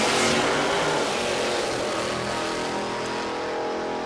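A drag racing car accelerates down the strip at Willowbank Raceway in Queensland, a loud continuous engine roar that fades gradually as the car pulls away.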